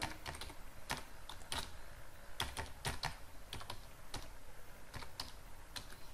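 Computer keyboard typing out a web address, a steady run of crisp key clicks with brief pauses, close and alone with no voices.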